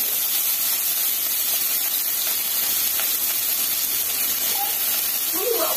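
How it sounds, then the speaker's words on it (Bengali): Shrimp coated in salt and turmeric fry in hot oil in a pan, giving a steady, close sizzling hiss that runs throughout, with a voice talking briefly near the end. "আমি হালকা করে এগুলোকে ভেজে নেব।"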